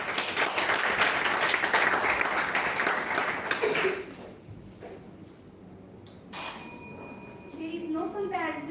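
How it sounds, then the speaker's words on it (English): An audience at a college oratory contest claps and applauds steadily for several seconds, then it fades out, followed by a sharp ringing ping and some quieter sounds. "Great round of applause for her."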